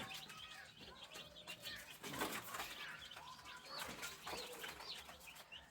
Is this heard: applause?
no